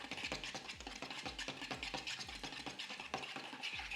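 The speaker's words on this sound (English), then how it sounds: "and salt and pepper. Whisk that all up." Ingredients with salt and pepper are whisked briskly in a bowl, giving a quiet, rapid, rhythmic scraping and clicking that continues steadily at close range with no talk.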